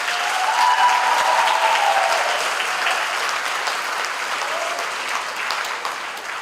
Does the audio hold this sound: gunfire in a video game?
no